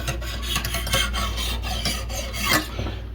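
A Lansky sharpening stone rasps steadily back and forth along a knife edge to take off the burr, with close, dry scraping strokes repeating evenly for a few seconds and no voices.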